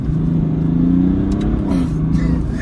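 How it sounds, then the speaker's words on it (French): A BMW 430d F32 with M package and a diesel engine revs up close by, a low, steady engine drone rising in pitch for a short burst of acceleration. "Il faut que tu fasses une petite accélération."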